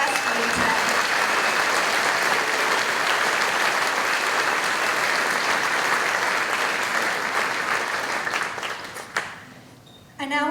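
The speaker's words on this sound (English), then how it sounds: "just a big round of applause for every single person who has got us through today" Sustained applause from a crowd at a community launch event for volunteers, dense and steady for about nine seconds before thinning out and stopping near the end.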